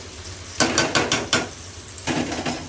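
Salt being stirred into chicken in a cooking pot, a few quick scraping clatters of a utensil against metal in two short bursts, close and distinct.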